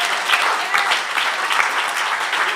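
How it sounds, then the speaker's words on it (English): Crowd applause at a rally for Attorney Michael Harding, brisk overlapping claps sustained throughout with a few sharper individual claps standing out nearby. "Can we give him a round of applause?"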